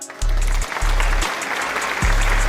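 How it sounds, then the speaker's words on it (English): Audience applause during a talk, steady crowd clapping with heavy low thumps breaking in at intervals beneath it. "I do want to give this Asian hand an applause"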